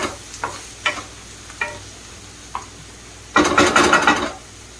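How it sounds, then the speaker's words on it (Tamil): Green chillies and onions sautéing in a pan, a faint low sizzle broken by a few sharp spatula taps, then a louder burst of frying and scraping near the end. "ஒரு 2 நிமிஷம் நல்லா வதக்கி விட்டுருங்க."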